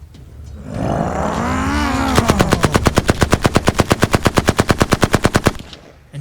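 A machine gun sound effect opens with a rising mechanical roar, then gives way to a long, even run of about thirty loud, close rapid shots that stops abruptly.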